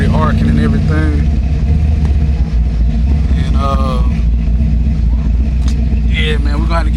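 A rough-running LS-engined car with a fault causing spark plug arcing, its engine droning loud and steady close by throughout while people talk over it.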